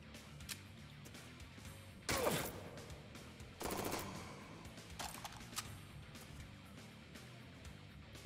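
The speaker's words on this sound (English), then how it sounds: "Fire a machine gun." Machine gun fire in the sci-fi roguelike Jupiter Hell: two loud short bursts of rapid shots with smaller impacts in between, set against a steady low game ambience.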